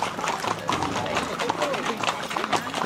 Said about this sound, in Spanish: Los tres de a caballo, miren.